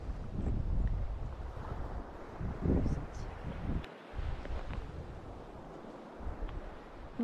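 Steady wind gusting outdoors beside a bay on Fogo Island, Newfoundland, a broad low rumble buffeting the microphone throughout with brief lulls.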